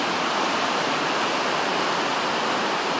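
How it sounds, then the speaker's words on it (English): Steady, loud rushing of the Lewis River flowing through Gifford Pinchot National Forest in Washington, a constant broadband roar of water with no voices. "Lewis River. Washington, Gifford Pinchot. National Forest. My river."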